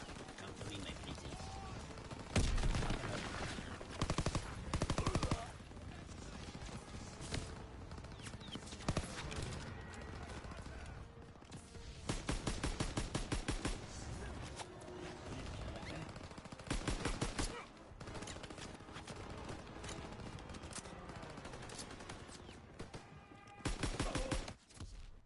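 PPSh submachine gun in the WWII shooter Call of Duty: WWII fires in several loud, rapid bursts of automatic fire, with combat noise and other shots in between and no speech.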